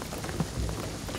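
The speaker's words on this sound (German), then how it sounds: "Ich sage, der Regen wird alles überfluten." Steady rain falls in a Shadow of the Tomb Raider game scene, a dense close patter on surfaces with a couple of brief louder drops, alone without talk.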